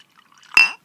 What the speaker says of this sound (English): Here's a little ASMR of the pour for Chad